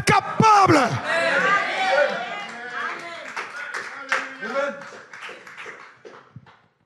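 A church congregation applauding and cheering: loud bursts of clapping and shouting voices at the start, then fading cheers and scattered claps that trail off into quiet.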